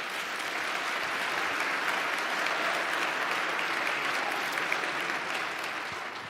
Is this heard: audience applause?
yes